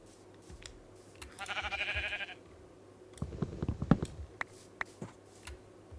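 A Minecraft sheep bleats in a quick wavering burst, then heavier thumping and clicking noises follow with scattered ticks near the end.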